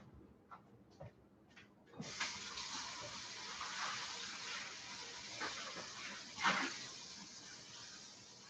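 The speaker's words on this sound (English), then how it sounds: "I got to run some water in this." Water running from a kitchen tap, a steady gushing stream that starts after a few soft clinks and continues at moderate loudness, with a brief louder splash near the end.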